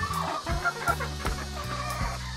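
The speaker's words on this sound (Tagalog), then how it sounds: "Yan, ang dami ng mga manok." A crowd of free-range farm chickens clucks steadily, their repeated calls overlapping in a dense, close chorus with no talking.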